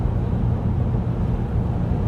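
Low, steady diesel drone from a 2024 Toyota Land Cruiser 2.8 D-4D with 500,000 kilometers, heard from inside while driving; a continuous rumble with road noise, no talking.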